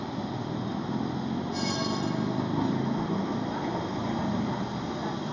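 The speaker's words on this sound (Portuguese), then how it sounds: "Vamos aqui ver passar o elétrico" A Lisbon tram passes along Rua Augusta on a cold late afternoon, giving a steady rumbling rail noise with a brief metallic wheel squeal partway through, heard moderately close with no talking.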